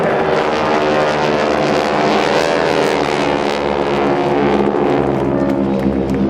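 GEICO Skytypers World War II era propeller aircraft flying overhead at an air show open house, a continuous loud droning engine roar that holds steady throughout with no break.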